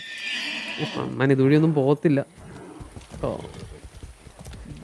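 A horse in the video game Far Cry 6 gives a loud whinnying neigh with clip-clop hoofbeats, heard under and between steady talk from players over game sounds.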